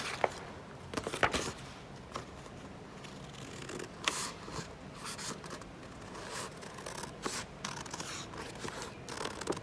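Scissors cut through fabric along a corset pattern piece, a quiet series of irregular crisp snips and rustles close by with no talking.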